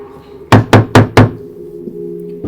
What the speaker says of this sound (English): We'll knock on the door then